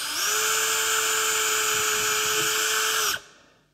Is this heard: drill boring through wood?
yes